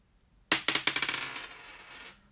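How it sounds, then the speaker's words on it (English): Dice tossed for a cootie catcher tarot reading clatter onto a hard surface, a sharp first impact followed by a rapid run of diminishing bounces and a brief settling rattle, close and alone. "we're gonna roll it again"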